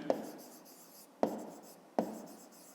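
Handwriting on paper makes three short, scratchy strokes spaced about a second apart, each with a sharp start that fades quickly. The sound is close and quiet, with no voices.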